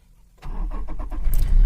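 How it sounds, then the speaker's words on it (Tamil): A car engine starts at the press of a push-start button: a short cranking burst, then the engine catches and settles into a close, steady idle rumble. "வண்டி ஸ்டார்ட் ஆயிடுச்சு, தெரியுதுங்களா?"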